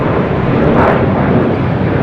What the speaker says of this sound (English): We just had a China Airlines cargo 777 freighter touchdown here on 25 left.